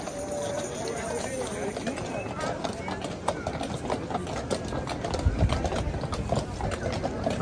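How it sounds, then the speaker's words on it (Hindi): Horses' hooves clip-clop on a street in Bruges during a festival, a steady run of sharp hoof strikes under a busy crowd murmur, with people talking nearby. "घोड़े चेक करें कितना कितना घोड़ा है।"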